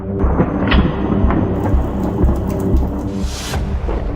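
Heavy thunderstorm over Bihar, with steady loud rain and repeated thunder rumbles throughout, one brighter crack near the end.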